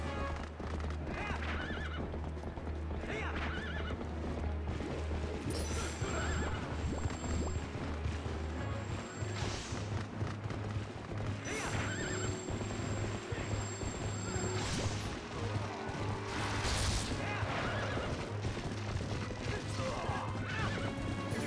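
Horses neigh and whinny amid hoof clip-clops and crashing impacts, over a busy layered background of video game sound effects from Zelda: Twilight Princess, with a gigantic horse.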